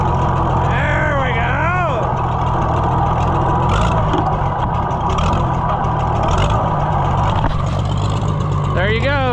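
An old Oliver Super 77 tractor pulled from a junkyard runs on its first drive in over twenty years, a loud, steady engine rumble close by throughout, with someone talking over it.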